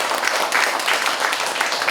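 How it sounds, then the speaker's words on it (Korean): A crowd applauds at the launch ceremony of a basic income movement's Gunsan branch, a dense, steady wash of clapping from many hands that fills the room without pause. "참여해주신 우리 모두를 위해서 일단 박수 한번 부탁드리겠습니다"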